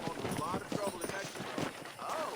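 Horse hooves clip-clop at a steady walking rhythm in the video game Red Dead Redemption, close and moderately loud, mixed with a murmur of voice.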